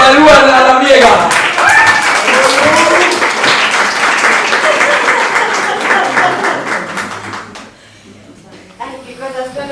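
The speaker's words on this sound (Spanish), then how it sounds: "Un aplauso para Luana Labriega." Loud audience applause with cheering voices at a storytelling show, sustained for several seconds before thinning out near the end, with some voices rising again at the close.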